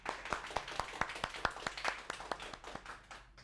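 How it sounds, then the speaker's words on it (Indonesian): Small group clapping at an online event, a steady, fairly quick rhythm of crisp, close hand claps that thins out slightly toward the end, with no voices over it. "Tepuk tangan dong buat kita semua hari ini."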